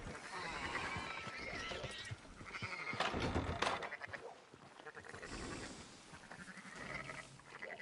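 Sheep bleat amid farm animal sounds in the Western video game Red Dead Redemption 2, with horse whinnies and hoof clops mixed in at moderate loudness, no talk.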